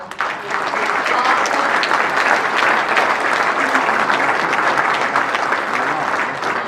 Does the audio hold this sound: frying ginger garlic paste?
no